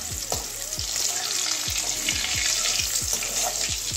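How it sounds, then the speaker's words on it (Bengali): Potato pieces fry in hot oil for an egg and pointed gourd curry, a dense continuous sizzle close up with a regular series of soft scraping stirs and no voices. "আলুটা একটু ভেজে নিচ্ছি।"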